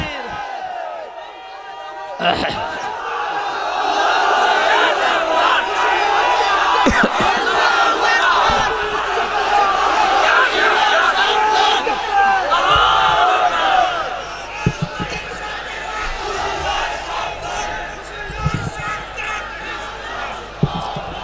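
A large religious gathering roars a takbir response in unison, a loud massed shout rising suddenly and sustained for about twelve seconds before breaking into scattered calls and voices.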